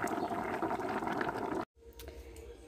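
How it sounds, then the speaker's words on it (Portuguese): Rice cooking in a pot, a close, dense bubbling boil that cuts off abruptly, then resumes more quietly with faint clinks. "Vou refogar tudo e fazer o arroz rapidinho. Arrozinho já cozinhando."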